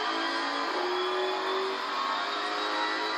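A Corvette race car engine on a track, a loud sustained whine and roar that holds steady with a brief rising note, heard without speech.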